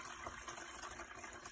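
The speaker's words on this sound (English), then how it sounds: "I'm going to add the water. Add the water in here." Water pours steadily into a 1-liter Hamilton Beach glass electric tea kettle, a continuous close gushing fill with no talk over it.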